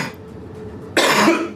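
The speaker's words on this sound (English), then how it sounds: "Still that bit of a cough hanging around" A single close, loud cough bursts out after a stretch of quiet room tone, from a man with a lingering cough, lasting about half a second with a short trailing breath.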